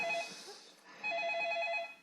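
A telephone rings in two bursts, an electronic trilling ring, then a short pause, then a second ring, fairly close and clear.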